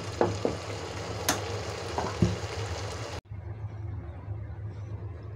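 Spices sizzle and crackle while frying in a cooking pot, with a few sharp stirring clinks and scrapes. The sizzling cuts off abruptly to near quiet for the final two seconds.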